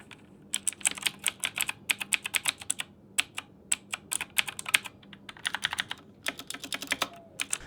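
Fast typing on a computer keyboard with tactile, clicky keys; close, crisp clacks come in quick bursts with short pauses and no voices.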